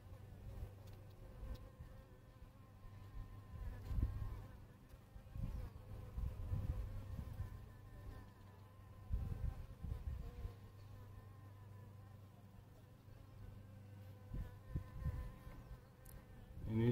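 Steady buzzing of bees outdoors, a continuous drone with individual insects swelling louder as they pass close, no voices.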